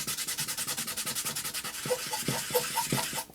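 Aluminum foil rubbed back and forth over a rusty steel chassis, a steady rhythmic scraping of quick strokes that grows a bit harder and more uneven toward the end, close up with no talk.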